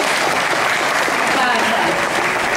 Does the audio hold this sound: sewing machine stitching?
no